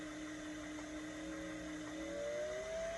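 A small sewing machine motor, on a Singer 401-A or 500-A, whirs steadily, its whine rising gradually in pitch as it speeds up, close and fairly quiet.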